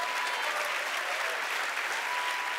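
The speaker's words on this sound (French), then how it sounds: "Est-ce qu'on peut applaudir la parole de Dieu?" A church congregation applauds, a steady dense clapping that fills the room evenly at moderate distance, with no voices standing out.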